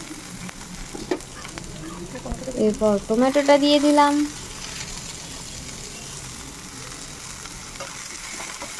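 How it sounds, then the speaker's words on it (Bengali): Carrot and tomato fry lightly in a pan over a medium gas flame, a soft steady sizzle with occasional stirring scrapes, while someone talks over it. "দেখো, হালকা ভাজা ভাজা করে নিচ্ছি আবার"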